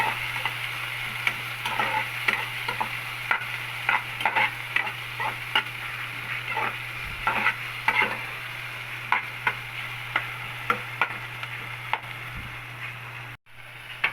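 Garlic, onion, tomato and ginger sauté in a hot pan, a steady sizzle broken by frequent sharp scrapes and taps of a utensil stirring against the metal, close and clear with no talking.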